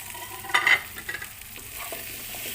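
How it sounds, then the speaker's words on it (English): Vegetables for a Filipino pork and mung bean stew sauté in a pan with a soft, steady hiss, marked early by a couple of bright metallic utensil clinks and stirring scrapes. "So this, you just have to saute this at least for 2 minutes."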